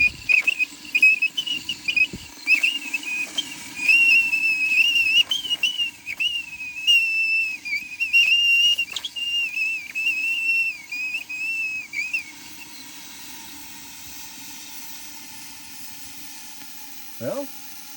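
A Petromax kettle on a campfire whistles in a steady, wavering high tone for about twelve seconds and then stops, with faint fire noise and low rumble underneath.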